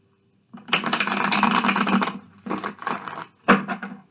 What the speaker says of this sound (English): We're going to give it 3 good shuffles.